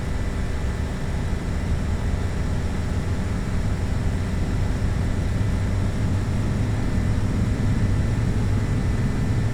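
A DC-3 in the Flight Simulator X game runs its engines at full throttle for takeoff, giving a steady, loud, broadband drone with a dense low rumble that holds level from start to finish.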